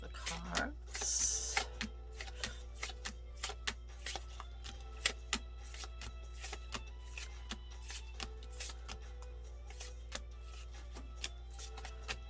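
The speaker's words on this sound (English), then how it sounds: "let's do a quick shuffle of the cards" Prisma Visions tarot cards are shuffled close up in a quick series of crisp riffling snaps and soft slides, over a low steady hum.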